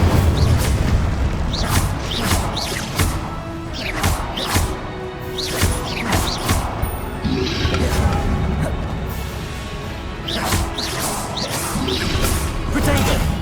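Fiery spell blasts and impacts from the Incendio fire charm in Hogwarts Legacy, a series of loud bursts and whooshes in quick succession amid other combat spells, with a voice calling out spell names between them.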